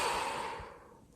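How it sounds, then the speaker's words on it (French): A single long breath released through the mouth during a yoga relaxation exercise, a soft airy sigh close by that fades away over about a second, with no talking. "Relâchez tout par la bouche."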